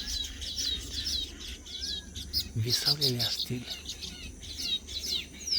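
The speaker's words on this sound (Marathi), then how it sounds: "घर विनण्याच्या नादात या चिमण्या आहेत" Sparrows chirp and tweet in rapid bursts at dusk, close and lively, while someone speaks over them briefly.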